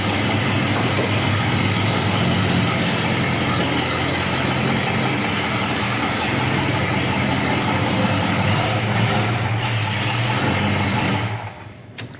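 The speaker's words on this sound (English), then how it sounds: "This thing sounds great, Dalton, and it's got factory air" A 1970 Plymouth GTX V8 idles with a deep, steady rumble, loud and close, before cutting off abruptly near the end.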